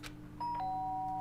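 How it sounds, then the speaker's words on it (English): Two-tone electronic doorbell chime from the video game Danganronpa, a clear ding followed by a sustained dong ringing over a steady low background hum. "The sharp sound of a doorbell pierced my sleepy haze and pulled me back to the real world."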